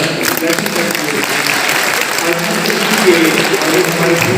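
Audience clapping to welcome guests at a ceremony hosted for a board of education chief guest, a steady dense patter of hands, fairly loud and sustained, with faint voices mixed in.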